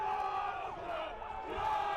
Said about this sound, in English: you can really hear the York crowd right now.